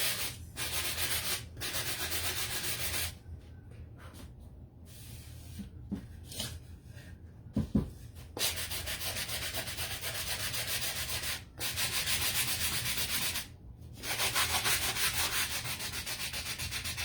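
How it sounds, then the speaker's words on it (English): Painted wooden shelf pieces being sanded by hand: long, steady, close scratchy rubbing strokes with several brief pauses and small knocks in between. "sand these a little bit"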